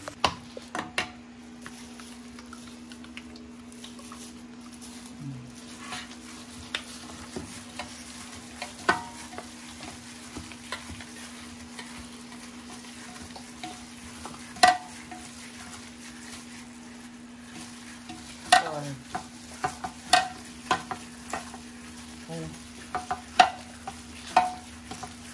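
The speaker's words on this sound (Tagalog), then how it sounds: "Prito na tayo, guys. Prito." Steady low sizzle of thinly sliced food frying in a pan, with intermittent clinks and scrapes of a utensil stirring, close and moderately quiet.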